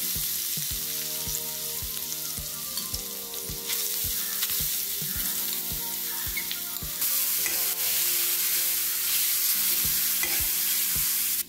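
Grated coconut from a whole coconut is roasted in a pan for a fried modak filling. A steady close sizzle runs under regular scraping stir strokes throughout, with no talking.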